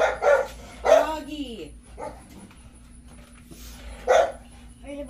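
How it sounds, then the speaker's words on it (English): A dog barks several times nearby in short, sharp bursts spaced a second or two apart, with a faint steady hum underneath. "Doggy."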